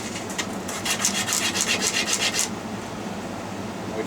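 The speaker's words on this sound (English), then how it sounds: "We just want to sand the bottom of that tip." A Moori leather cue tip is sanded on its underside on a cue lathe, giving a close, rhythmic rasping rub of about a dozen quick strokes that stops partway, leaving quiet room noise.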